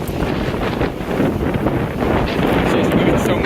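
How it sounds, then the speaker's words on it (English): Strong gusts buffet the microphone outdoors, producing a continuous loud low rumble that fills the whole stretch with no clear voices. "Okay, it's getting very windy."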